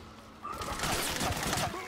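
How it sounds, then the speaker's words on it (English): Rapid bursts of gunfire from the Metal Gear Solid 4 video game, dense overlapping shots starting after a quiet half-second and continuing steadily, with voices mixed in. "See, I'm shooting along with them."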